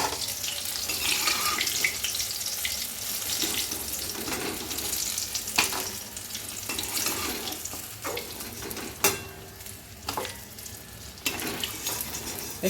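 Food frying in oil in a pan until deep red, a steady crackling sizzle running throughout with scattered sharp clinks and splashy stirring bursts, no voices.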